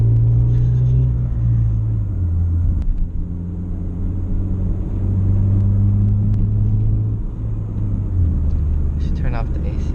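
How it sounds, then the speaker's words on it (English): Engine vibration and low droning rumble inside a 2012 Honda Fit fitted with a Beatrush engine mount, a steady loud hum with tonal bands throughout, heard from the cabin while a person speaks. "so everything's vibrating from the engine mount."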